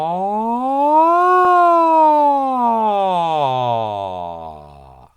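A single voice sings a continuous glide on an R sound as a vocal warm-up, sliding up to a higher pitch, then sweeping smoothly down to a low growl, close and loud throughout.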